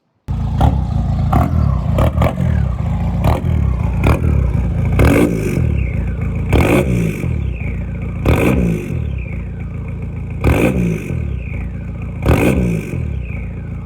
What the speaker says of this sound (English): you can hear the turbo way more louder than stock